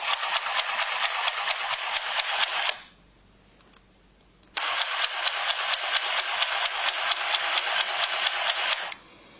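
A mini sewing machine stitches through fabric in two bursts of fast, even mechanical rattling, close and steady, with a short quiet pause between them.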